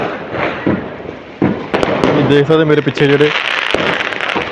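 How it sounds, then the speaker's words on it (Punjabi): Sharp Diwali firecracker bangs and crackles go off repeatedly in a village at night, some near and some distant, while someone talks over them. "ਮੈਂ ਥੋੜੇ ਪਟਾਕੇ ਚਲਾਏ ਜੇ ਪਟਾਕੇ ਕਾਫੀ ਚੱਲਦੇ ਪਏ"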